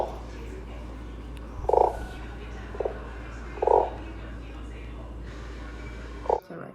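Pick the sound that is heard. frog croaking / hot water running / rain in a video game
frog croaking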